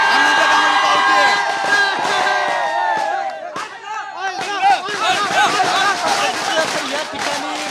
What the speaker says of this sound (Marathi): या ठिकाणी मुरलीधर मोहोळ यांच्या कार्यालयाच्या बाहेर जल्लोष सुरू झालेला दिसतोय।